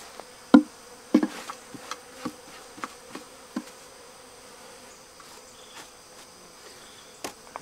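A steady hum of buzzing honeybees in a nuc hive under ant attack fills the background, broken by a series of sharp knocks and taps, loudest near the start, with no talking.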